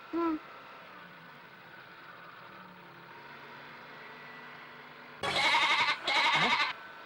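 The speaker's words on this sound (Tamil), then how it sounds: "ஆடு கத்துற சத்தம் கேக்குது" Two loud bleats of a goat, each about half a second long, close by, following a long stretch of quiet background hum.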